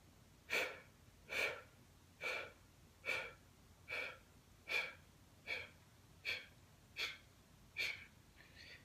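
Slow, deliberate yoga breathing: about ten soft, airy breaths spaced roughly a second apart, each a short rising and falling rush of air, close and quiet, with no talking.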